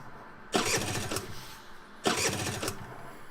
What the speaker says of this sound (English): No matter what he did, the engine refused to turn over.